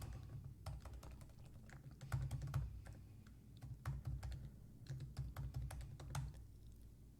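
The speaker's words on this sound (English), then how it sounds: "Type in your password" Quiet, irregular keyboard typing with clustered key taps over a low hum, fairly close and soft, with no voices.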